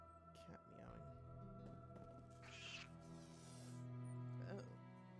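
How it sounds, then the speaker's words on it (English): A cat meows in Elder Scrolls Online, several short mewing calls set against a game music bed, with a person talking over parts of it. "That cat meowing."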